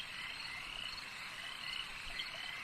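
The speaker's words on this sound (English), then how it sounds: "listen to the frogs croaking" Frogs croaking in a dense, continuous chorus, a steady droning trill that stays even throughout, somewhat distant and soft.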